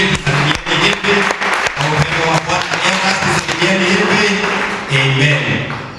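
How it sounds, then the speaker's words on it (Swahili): A church congregation applauds together, a dense, sustained wash of clapping lasting throughout, with voices talking over it. "kanisa tuwachapie makofi mazuri"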